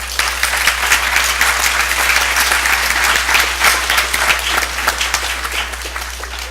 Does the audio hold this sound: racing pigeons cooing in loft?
no